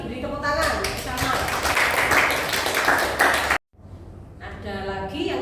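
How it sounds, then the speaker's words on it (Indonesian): A classroom of students claps together in a sustained burst of applause lasting a few seconds, then stops abruptly as a teacher resumes speaking. "Beri tepuk tangan bersama"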